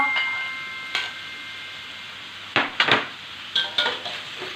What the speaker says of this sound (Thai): แล้วผัดต่อ